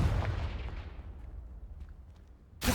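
A booming blast from the Confringo spell in Hogwarts Legacy, a loud, close explosion that decays into a rumbling tail over about two seconds before another sharp burst hits at the end.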